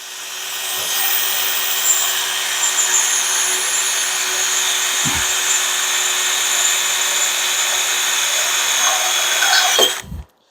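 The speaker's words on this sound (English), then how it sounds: "want to go nice and slow as you can get the drill to go" Power drill boring slowly through material to mount retractable ratchet straps on a Jolly Dolly HD, a steady whining motor held at low speed for about ten seconds with faint knocks, then cutting off abruptly.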